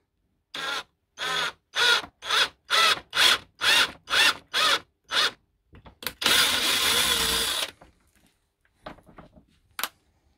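Powered driver cutting a thread into a golf club head part for a Cobra RX/R9 to RX Adder conversion: about a dozen evenly spaced short whirring bursts, then one longer continuous grinding run, then a few faint taps.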